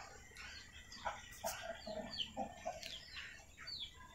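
Kolibri wulung birds call in an aviary with a series of short, faint, high chirps and whistles spaced unevenly over a quiet background.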